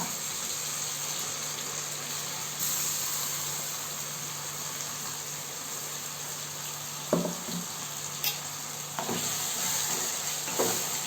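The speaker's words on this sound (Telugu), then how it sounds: "మసాలా బాగా వేయించుకోవాలి" Ground masala paste frying in a pan for country chicken curry, a steady close sizzle with a few sharp scrapes and knocks of stirring near the end, no voices.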